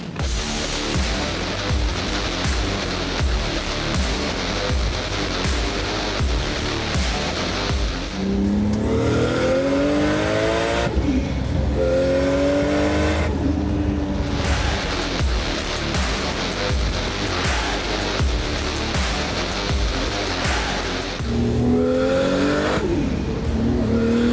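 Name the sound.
twin engined Toyota Starlet race car accelerating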